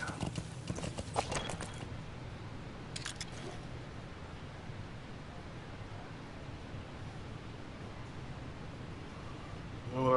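Horse hooves clip-clop in Metal Gear Solid 5: The Phantom Pain, with quick clustered hoofbeats early, another brief burst around three seconds, then a steady low rumble of movement with no speech.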